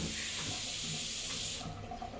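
Water is poured in a steady, close rushing stream over clothes being washed by hand, then cuts off near the end with a softer trickle.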